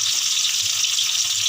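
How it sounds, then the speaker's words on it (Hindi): Onions frying in hot oil with whole garam masala for a mixed vegetable pulao give off a steady, close, hissing sizzle with no pauses. "इधर प्याज हम साथ डाल रहे हैं ताकि हमारा ये भी साथ फ्राई हो जाए"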